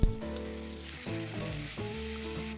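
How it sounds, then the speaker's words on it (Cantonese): Garlic cloves sizzle loudly in hot lard in a wok while Singapore Hokkien prawn noodles are cooked, with fish sauce about to go in. The frying crackles close up and continuously, and a spatula stirs now and then. "加啲豬油爆香個蒜粒"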